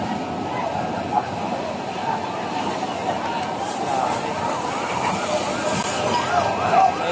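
Emergency sirens of arriving fire trucks at a house fire, a distant wailing tone rising and falling steadily beneath a continuous wash of crowd noise and nearby voices.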